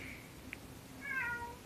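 A pet cat meows once, a short, fairly close call near the end over a quiet room hum, with a faint tick beforehand.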